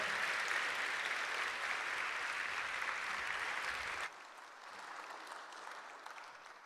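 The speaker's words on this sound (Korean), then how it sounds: "하나님께 영광의 박수를 내요." A church congregation claps during a Korean revival service, a broad steady roar of applause that drops abruptly to a quieter, thinner patter partway through, with no speech over it.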